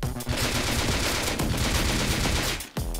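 Rapid, loud automatic fire from an LR-300 assault rifle in the video game Rust, a dense unbroken burst that cuts off briefly near the end before resuming.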